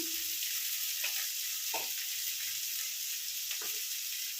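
Onions frying in oil with turmeric, curry leaves and mint, a steady close sizzle with a few soft stirring scrapes.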